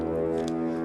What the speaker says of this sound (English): Horn patch sounds like this.